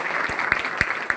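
An audience at a Navi Mumbai municipal election rally applauds, a brief steady wash of clapping with a few sharper individual claps standing out.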